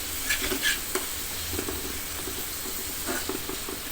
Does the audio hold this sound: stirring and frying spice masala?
yes